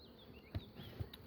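Faint, steady buzzing of honey bees at an understrength, queenless hive as it is opened for inspection, with a few soft low knocks from the frames.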